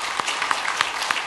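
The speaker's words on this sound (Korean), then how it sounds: "박수로 환영하며 축복하겠습니다." Church congregation clapping in welcome for a newly registered member at a Sunday worship service, a brief, steady patter of many hands spread evenly across the moment.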